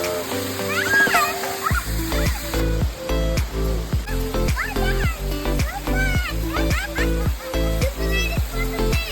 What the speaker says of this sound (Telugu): అదండి వెళ్ళి వాటర్ ఫాల్ ఎంజాయ్ చేద్దాం.